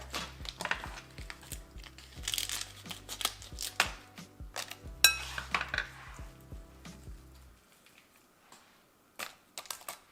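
A knife slices potatoes in half on a cutting board, making a close series of quiet, irregular taps and clacks that stop, followed by a few faint knocks.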